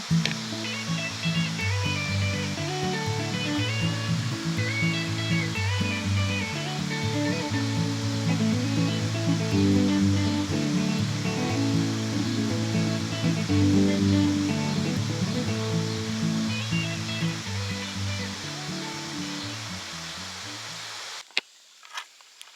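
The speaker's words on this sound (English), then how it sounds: "We got us another one of my little creeks." A small creek flows with a constant, dense rushing and babbling of water, steady and fairly loud from start to finish before a brief handling bump at the very end, with no one talking.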